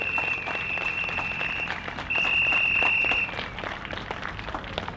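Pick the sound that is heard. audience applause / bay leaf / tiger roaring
audience applause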